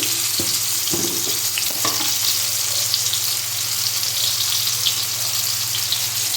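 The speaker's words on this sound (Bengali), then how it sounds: "এবার আমি এর মধ্যে দিয়ে দিচ্ছি আলু ভেজে নেওয়ার জন্য।" Salted potatoes fry in hot oil with a loud, continuous close-up sizzle, broken early by a few clinks and stirring scrapes, then a steady bubbling hiss to the end, with no voices.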